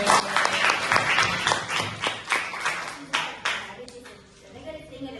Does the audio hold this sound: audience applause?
yes